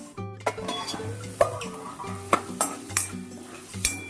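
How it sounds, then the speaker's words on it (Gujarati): Peas and a pinch of asafoetida tipped into hot oil in a pan, sizzling as a spoon scrapes and clinks against the metal in a steady rhythm of repeated stirring knocks, close and alone with no voices. "તો આપણું તેલ ગરમ થઈ ગયું છે, એમાં સહેજ હિંગ નાખીશું અને આપણે બધા વટાણા નાખી દેશું"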